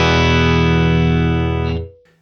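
Electric guitar through a UA Enigmatic Dumble-style amp in 50-watt mode, one sustained distorted chord ringing rich and loud before being cut off and fading near the end.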